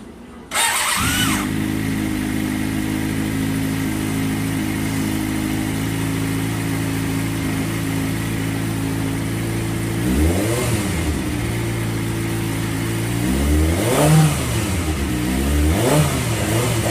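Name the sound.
motorcycle engine starting and revving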